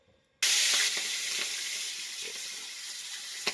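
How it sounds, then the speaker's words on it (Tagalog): Pork hits a hot pan and erupts into a loud, steady sizzle that continues unbroken, with small pops and crackles. "Prito muna natin."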